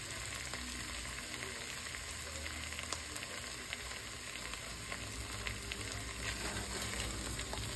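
Rice fries in a hot pan while being stirred, with a steady loud sizzle and scattered crackles running throughout and no talking.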